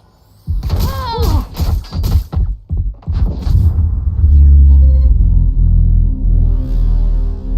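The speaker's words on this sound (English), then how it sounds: "Shots fired." Rapid burst of loud, sharp Valorant video game gunshots with thuds and booms, followed by a sustained low rumble and some muffled voices.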